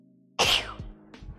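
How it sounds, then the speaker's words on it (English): A single sharp, loud sneeze bursts out close by in a kitchen during a cooking stream, followed by brief sniffly breath sounds. "Having a sneezing attack now."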